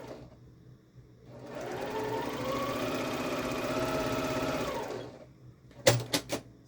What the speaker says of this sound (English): I've got the diagonal seam tape on my machine so I can see where to sew